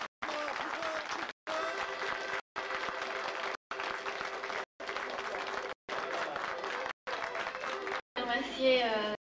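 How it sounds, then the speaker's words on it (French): Bursts of audience applause at a beauty pageant in Pérouges, France come in repeated blocks separated by short gaps, loud and steady, with a brief different sound at the very end. "Et beaucoup d'applaudissements."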